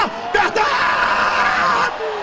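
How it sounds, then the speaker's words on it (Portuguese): A church congregation at a Gideões 2007 service lets out a loud, sustained crowd shout of glory. Many voices yell and whoop together for about two seconds, then drop away. "Quem acredita nisso, manda um grito de glória."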